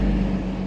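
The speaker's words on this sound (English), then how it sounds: "sorry about the traffic noise" Steady low rumble of road traffic in Blackpool, a continuous engine drone with a strong low hum, fairly close and unbroken for the short moment.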